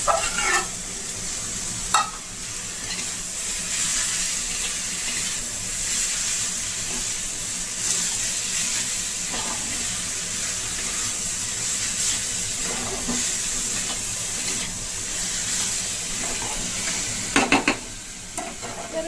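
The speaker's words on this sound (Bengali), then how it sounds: "এরপর এই যে চিকেন কিমাটা করে রেখেছি, এর মধ্যে দিয়ে দিলাম।" Chicken mince for momo filling fries in a pan with a steady, close hiss of sizzling and occasional stirring clatter throughout.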